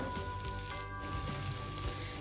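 Garlic-ginger paste and chicken wings sizzle steadily in a hot pan for biryani, a continuous close, dense frying hiss with no voices.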